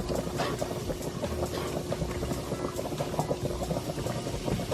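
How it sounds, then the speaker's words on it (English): Onion browns in a little hot oil in a pan for lasagna, a dense, steady sizzle and crackle heard up close throughout, with no voices. "Now we're going to brown the onion,"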